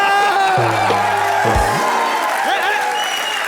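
A television comedy studio audience applauds and cheers for the actor Vivek, with a loud, dense wash of clapping under bright musical stings and brief whoops.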